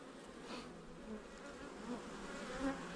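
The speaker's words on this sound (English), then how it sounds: "I don't want to disturb the bees any more than I need to be." Honeybees buzz in an open hive during a frame inspection, a soft continuous droning hum with a few individual bees swelling closer now and then.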